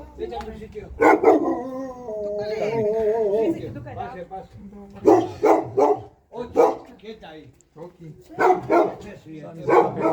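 Dog barking in a residential street in Torrevieja, Spain, repeated barks and yips at moderate distance mixed with people talking nearby.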